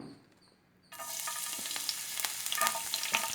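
Chopped garlic and ginger hit hot oil for a fish egg fry, a bright sizzle bursting in after a near-silent start and crackling steadily with small pops and stirring scrapes up close.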